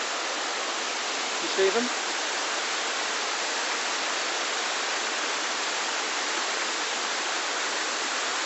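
A waterfall rushes in a steady, broad wash of falling water, constant and fairly loud across the whole stretch, with a brief voice speaking once near the start.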